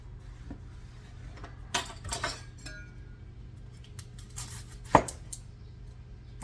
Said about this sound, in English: we are going to cut rings of red onions